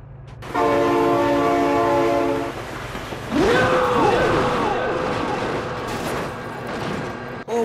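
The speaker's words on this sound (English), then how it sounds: "Oh my god, train!" A loud train horn sounds for about two seconds, then a train rumbles past with clattering wheels and a falling, wailing tone, in a BeamNG driving game with a flatbed truck.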